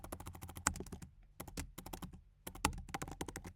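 A search query typed on a computer keyboard: quick, close bursts of key clicks in two runs with a short pause between, a louder keystroke standing out in each run.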